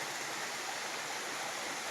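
A mountain stream flows in a steady broadband wash of water, close and even throughout with no breaks and no voices.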